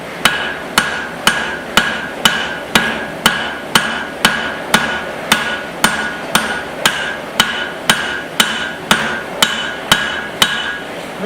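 Cross peen hammer forging a small axe, a steady series of about twenty sharp ringing metal strikes at an even, brisk rhythm, close and loud with no talking.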